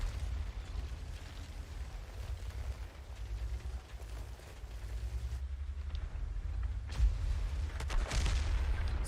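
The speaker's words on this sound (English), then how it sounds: "And the artillery just get me good" Artillery shells and explosions in the World of Tanks video game, with a low continuous rumble and heavy booming impacts rising toward the end.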